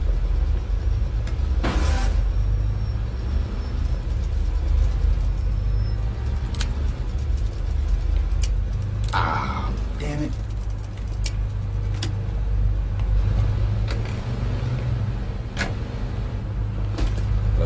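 Car engine in the video game Mafia 3 idling and rumbling steadily under frequent talk, with a few sharp clicks and door-like thumps scattered through.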